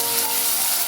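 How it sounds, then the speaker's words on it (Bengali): Slices of potato fry in hot oil, giving a brief, steady, close sizzling hiss with no voices. "আলুটা ভেজে নিচ্ছি"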